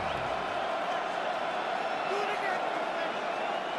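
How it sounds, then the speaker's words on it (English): A stadium crowd at MetLife Stadium in the Madden NFL 26 football video game, a steady, continuous roar of massed cheering filling the whole clip without breaks. "the crowd here at MetLife Stadium in full roar"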